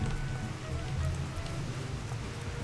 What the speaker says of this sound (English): The rain suddenly falling down the middle of that cutscene is actually a really nice touch.